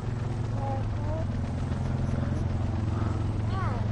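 A helicopter in the Blackout beta video game gives off a steady rhythmic rotor chop beneath near, constant chatter from players talking over each other.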